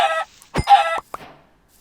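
A few squawky, clucking Minecraft chicken calls in short bursts, close and clear against near silence, with a sharp thump in between.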